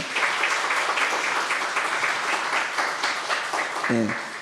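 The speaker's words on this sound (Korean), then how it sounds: "잠깐 일어나시면 박수로 환영하겠습니다" A church congregation applauds steadily in a large room, a dense even patter of clapping that carries on throughout, with a brief tone near the end.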